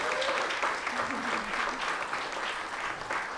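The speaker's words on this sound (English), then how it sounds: "One more round of applause for the Daughters of Maui." An audience at a talk on contemporary women voyagers claps steadily for a group, moderately loud and continuous, with faint voices mixed in beneath the applause.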